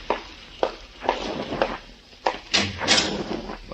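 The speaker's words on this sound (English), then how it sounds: "Open the door for him, Burton." In an old time radio detective drama, a door is opened with a series of clunks, knocks and latch rattles of varying loudness, close and unaccompanied by speech.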